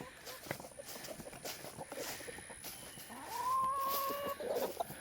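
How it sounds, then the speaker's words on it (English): Soft clucking from a few chickens close by, with scattered pecking and shuffling sounds, then a drawn-out higher call near the end. "I got some chickens."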